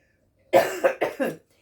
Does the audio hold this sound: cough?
yes